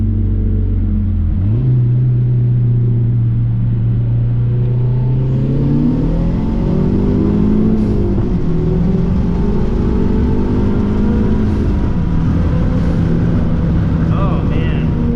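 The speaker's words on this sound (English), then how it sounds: "Oh man, there was a little backfire between the gears." A Mazdaspeed3 turbo car pulling hard in second gear, engine droning and rising in pitch, a shift into third with a brief dip and a small backfire, then climbing again, loud and close throughout.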